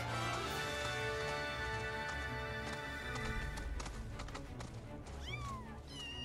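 Chocobos run in Final Fantasy VII Rebirth, their rapid clip-clopping footfalls over a steady bed of game music and ambience, with a short bird-like call near the end.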